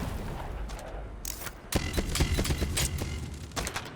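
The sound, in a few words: FAMAS rifle gunfire in a video game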